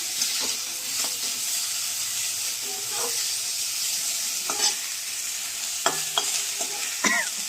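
Eggplant pieces dry-fry in a hot wok with no oil, a soft, steady hiss under intermittent scrapes and clinks of a spatula stirring against the pan.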